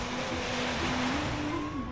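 Sea waves washing onto a rocky beach in General Nakar, Quezon Province, a steady close wash of surf with wind noise and a faint motor hum underneath, no voices.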